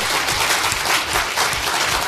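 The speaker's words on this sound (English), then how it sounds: "Let's give Mike a round of applause for that." A crowd at a naval symposium applauds in a dense, loud, continuous burst of clapping that fills the room, with no speech above it.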